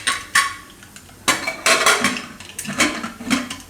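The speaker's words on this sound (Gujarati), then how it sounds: "કુકરનું ઢાંકણું બંધ કરી દઉં." A pressure cooker lid being closed on a home kitchen stove, heard as a few sharp metallic clanks and scrapes of steel, close and alone.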